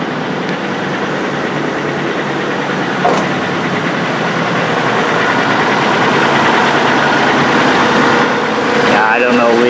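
A Mazda MPV engine idles with the air conditioning switched on, a steady, close mechanical hum and whir filling the whole stretch under the open hood, with a voice talking over it.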